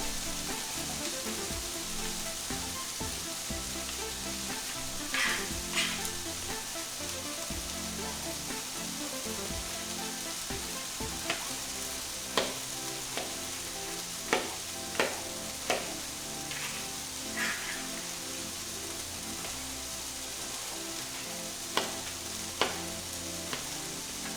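Peppers and onions frying in a pan, a steady, even sizzle that carries throughout, dotted with scattered crackles and occasional light taps of a utensil.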